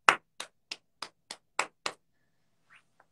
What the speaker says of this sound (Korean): 우리 신혜선님께 박수